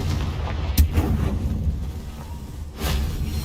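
Confringo fire spell explosions cast in Hogwarts Legacy, two booming blasts a couple of seconds apart over a rumbling low background, loud and close with no talking.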